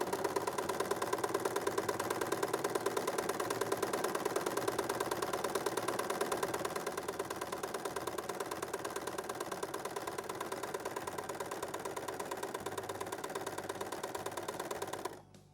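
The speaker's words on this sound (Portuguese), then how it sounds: "E eu vou sempre costurando em cima do lápis, tá? Onde a gente fez a marcação." A sewing machine stitching a fabric machine cover along a pencil-marked line, fast even needle clatter running steadily and close, easing slightly partway, then stopping abruptly at the end.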